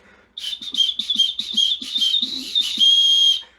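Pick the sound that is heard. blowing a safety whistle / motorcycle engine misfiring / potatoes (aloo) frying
blowing a safety whistle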